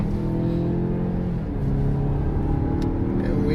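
A 2020 Mazda 6 Turbo accelerates from inside the cabin, a steady engine drone and road rumble building smoothly and continuously at moderate loudness.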